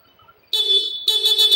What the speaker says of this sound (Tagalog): yung busina niya, PIA horn